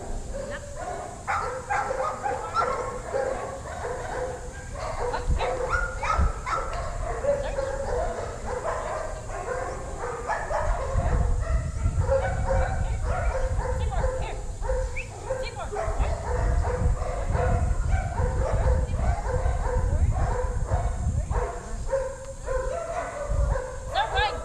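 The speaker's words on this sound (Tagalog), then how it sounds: "Pagod na pagod yung aso mo." A tired dog whimpers, yips and pants in short bursts throughout, with people talking nearby and steady background bustle.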